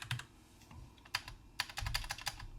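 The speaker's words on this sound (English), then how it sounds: "And if I type on my Mac" Keys clatter on a Mac computer keyboard in uneven bursts of close, crisp clicks with brief pauses, the typing quickening into a dense run toward the end, no voices.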